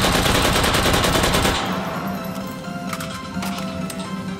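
A G36C rifle fires in the VR shooter H3VR: a dense, rapid full-auto burst of loud cracks for about a second and a half, then scattered single semi-auto shots ringing out over a quieter background.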